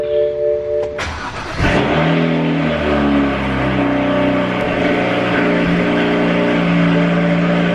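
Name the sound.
BMW 335is engine cold start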